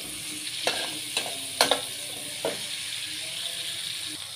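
Chilies are stir-fried in a pan: faint sizzling runs under a few sharp spatula scrapes and clicks spaced about half a second apart, then the clatter fades into the steady hiss.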